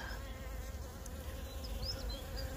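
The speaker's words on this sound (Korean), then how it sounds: "윙윙윙윙 소리가 완전 전쟁터 같습니다." Honeybees swarming over a bed of blooming crocuses in a spring garden, a dense continuous buzzing hum from many insects close by, steady and fairly loud, with occasional individual bees passing near.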